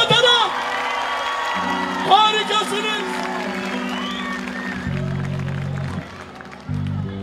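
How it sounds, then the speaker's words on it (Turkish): A concert audience at a show in Bergama applauding and cheering, sustained crowd clapping and whoops under an amplified announcer's voice and a held musical tone. "ve tabii ki kendinize kocaman bir alkış"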